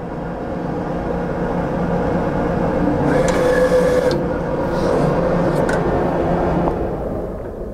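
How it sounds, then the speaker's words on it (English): A Hybrid 300 print/cut printer runs its sheet cut, a steady mechanical whir and rumble with a brief rising motor whine and a couple of sharp cutter clicks partway through, no voices. "so we can perform the sheet cut function and take our prints off of the printer"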